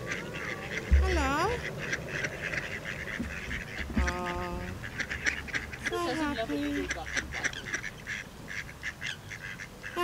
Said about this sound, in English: Happy ducks. Very happy ducks.